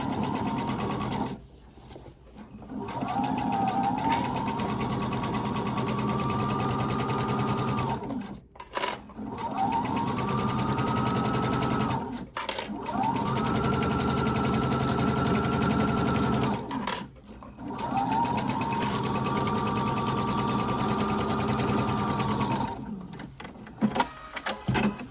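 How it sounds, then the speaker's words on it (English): A sewing machine stitches the curved edges of two pants side-pocket pieces together, running in several steady whirring bursts separated by short pauses, close and clear, with no talking over it. "Just stitch the pocket pieces together."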